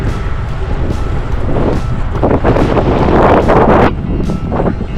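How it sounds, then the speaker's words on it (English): Wind gusts buffet the microphone outdoors on a windy day along an overland trail, rising and falling in loud rumbling surges with no voices. "Windy today"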